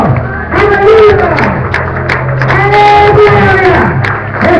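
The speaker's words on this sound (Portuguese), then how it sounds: "Em nome de Jesus, aplaude o Senhor." A church congregation applauding during a worship service, a loud, dense wash of crowd clapping and cheering that runs through the whole clip, with a voice over the top.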